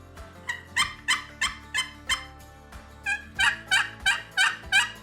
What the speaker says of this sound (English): this box call is kind of a long box, short box type of call